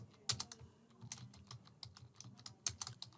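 Close, quiet typing on a computer keyboard as a workflow name is entered, a quick irregular run of key clicks with no voices.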